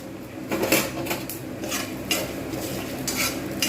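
Dry red chillies and whole spices dry-roasting in a pan while a utensil stirs them, repeated close scraping and clinking strokes over a light crackling sizzle, no talking.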